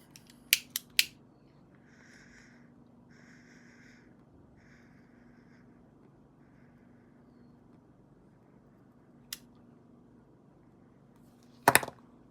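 Someone lights a tobacco pipe indoors with a few sharp clicks at the start, then soft intermittent puffing and faint rustles over a low hum, ending with another cluster of sharp clicks.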